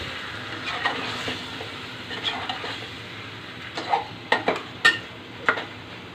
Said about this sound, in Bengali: আলুর সাথে মাছটা আর একটু কষিয়ে নিব